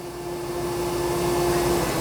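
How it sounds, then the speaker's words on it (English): A Dyson Spot+Scrub AI robot vacuum runs in vacuum-only mode with its mop pad lifted, giving a steady, close, continuous motor whir and airflow hum with a constant tone through the short stretch. "So it went into a vacuum only event."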